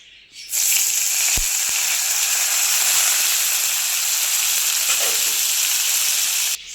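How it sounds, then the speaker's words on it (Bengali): Cauliflower frying in hot oil gives a loud, continuous sizzle and hiss throughout, with a couple of brief knocks near the start. "এবার ওই তেলেই লাল লাল করে ফুলকপিগুলো ভেজে নেব"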